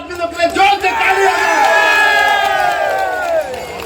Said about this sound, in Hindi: गार्ड करने वाला आदमी लोग के लिए जोर से तालियां।